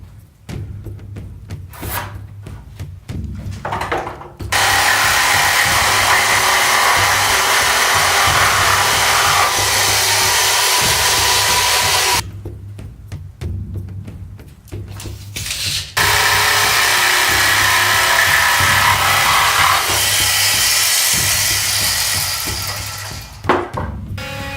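Power sander working along the joints of wooden boards for a Viking shield, long steady loud whirring passes separated by short pauses with faint knocks and handling noises between them.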